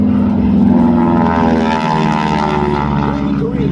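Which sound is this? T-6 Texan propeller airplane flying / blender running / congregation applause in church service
T-6 Texan propeller airplane flying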